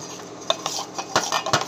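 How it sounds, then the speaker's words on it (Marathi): A spoon clinks and scrapes against a bowl while rava dhokla batter with soda is stirred briskly in one direction, several sharp close metallic taps in quick succession, no talking. "त्याच्यामध्ये आपल्याला मैत्रिणींनो टाकायचा 1 चमचा सोडा आणि हे चांगलं हलवून घ्यायचे आपल्याला एका डायरेक्शन मध्ये."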